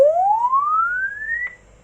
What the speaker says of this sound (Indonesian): itu adalah tadi suara dari frekuensi yang dinaikkan